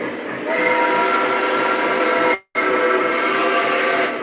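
Lionel Legacy 765 model train running, a loud sustained whistle blast that stops abruptly, breaks briefly, then sounds again over the steady hum of the locomotive.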